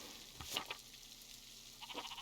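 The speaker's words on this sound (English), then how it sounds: "I think I found Johann's last lost sheep" Sheep in the medieval-set game Pentiment give a few faint, short bleats over quiet background ambience, with another soft burst of bleating toward the end.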